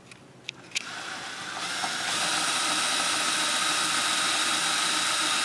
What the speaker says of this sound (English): drill through the front with this smaller bit.